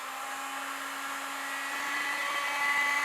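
A heat gun blows steadily onto a stoneware clay pot being made on a pottery wheel, giving a continuous close whirring hiss that rises slightly toward the end, with no talking.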